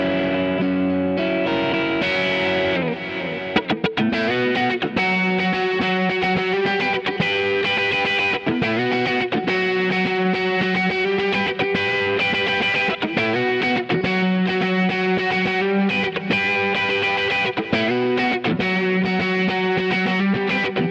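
Electric guitar through a Kemper profiling amp with delay plays a distorted chord passage from a song's bridge into its chorus, loud and sustained with rhythmic strums and echoing repeats, no talking.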